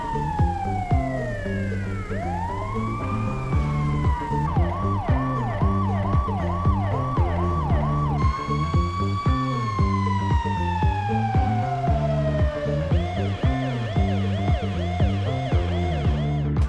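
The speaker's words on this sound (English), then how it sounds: "This mod enhances the auditory experience for all vehicles used by police and emergency services" Police and emergency vehicle sirens from a FiveM sound mod cycle through several loud, steady patterns: long rising and falling wails, rapid yelps and fast warbling tones, one after another with no talk.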